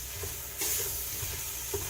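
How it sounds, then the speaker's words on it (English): Rabbit meat sizzles in a hot pan while a handheld meat chopper breaks it up for pumpkin chili, giving a constant frying hiss with brief scraping and stirring strokes, including one louder burst. "break it up with my handy dandy little meat chopper"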